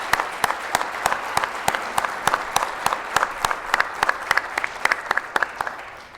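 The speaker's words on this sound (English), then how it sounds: "I think that deserves another round of applause." An audience outside the NASDAQ building in Times Square applauds steadily, a dense wash of many hands with sharp individual claps standing out, sustained and fairly loud throughout with no talking.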